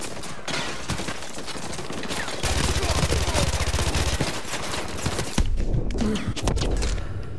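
Rapid Uzi submachine gun fire in Call of Duty: Modern Warfare 2 Campaign Remastered, dense bursts of crackling shots running almost continuously with a heavy low rumble, briefly pausing near the end before resuming.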